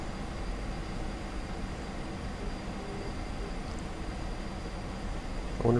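Train in the Korean War flight game MVP Korea 1952, a steady low rumble of rolling wagons and engine running continuously at moderate distance, with a louder bump right at the end.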